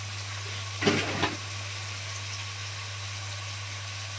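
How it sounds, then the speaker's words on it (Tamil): Spinach with homemade masala powder sautés in hot oil with a steady, even sizzle and hiss, broken early by two brief stirring scrapes, over a constant low hum. "பச்சை வாசனை போகிறதுக்கு நல்லா வதக்கி விட்டுக்கலாம்"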